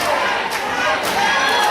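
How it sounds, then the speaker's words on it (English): A wrestling crowd at an NWF match chanting "tap" in a rhythmic, repeated chant, with pulses about every half second over a broad roar of crowd noise. "Crowd chanting his name. I think they're saying tap."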